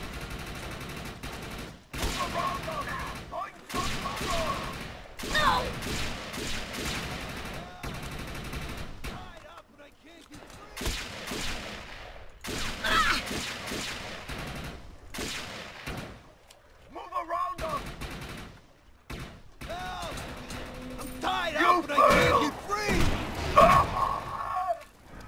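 Bursts of gunfire in the video game Defiance, rapid volleys and single shots in repeated clusters separated by brief pauses, moderately loud throughout with occasional game noises.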